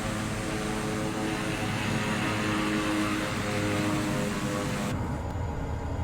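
A propeller plane's engine drones steadily and loudly in Microsoft Flight Simulator 2024, a continuous hum that dulls slightly near the end.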